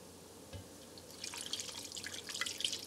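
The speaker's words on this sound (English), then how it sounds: "I'm going to start pouring in the milk" Milk poured into crepe batter for Hungarian Hortobágy pancakes makes a soft, close trickling and splashing that starts after a light knock and builds steadily; no talking.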